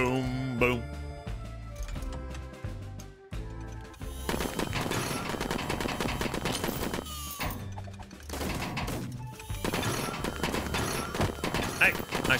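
Gunshots in the video game Bartlow's Dread Machine, dense rapid bursts of fire with mechanical clatter, mixed with game music and talking.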